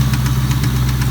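A 1997 Ford Mustang GT V8 with a MagnaFlow exhaust and a suspected rod bearing fault idles loud and close, its deep steady rumble carrying a faint rhythmic ticking pulse and no talk over it.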